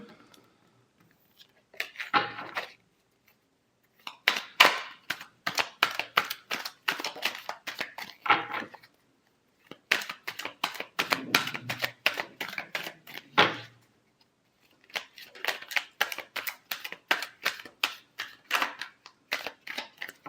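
Tarot cards being shuffled in a dense, rapid riffling patter, coming in several bursts separated by short pauses, close and fairly quiet with no talking.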